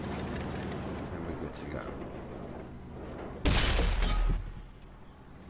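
In World of Tanks on console, a Leopard I tank fires a loud, booming cannon shot with a short rumbling tail, while someone talks throughout over the game's battle ambience.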